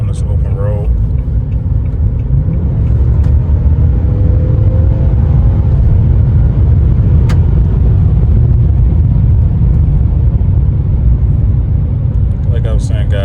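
Ram 1500 Rebel pickup truck, 2025 model, accelerating on an open road, heard from inside as a steady, loud low engine rumble and road drone that holds throughout, with a brief voice near the start.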